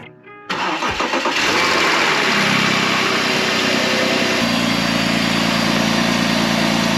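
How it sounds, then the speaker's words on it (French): A BMW 530i with the M54B30 inline-six cranks briefly and catches, then settles into a loud, steady idle close by, the tone dropping slightly as the revs come down after the start. "Donc on va démarrer le moteur."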